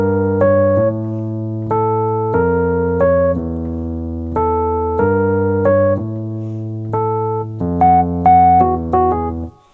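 Electric piano plays a saxophone sample line from a song over sustained low chords, a loud close riff repeated in phrases, with no talking.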